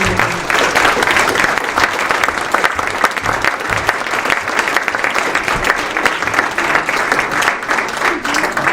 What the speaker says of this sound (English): Again, a nice round of applause to him.